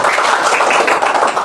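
Classroom group clapping, a brief, loud and dense patter of many hands close by, continuing steadily without pause.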